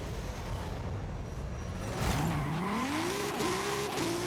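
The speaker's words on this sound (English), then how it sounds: "I hear the sound I want to hear from that Racing 3-liter 2JZ" In Forza Horizon 5, a Toyota GR Supra with a racing 3-liter 2JZ engine revs hard in a race. A rising engine note climbs and shifts over loud tire and road noise.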